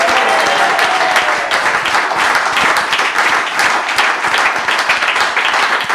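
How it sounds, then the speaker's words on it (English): Capacity studio crowd gives a big, loud round of applause, dense continuous clapping sustained throughout with no talk over it. "Give yourself a big round of applause"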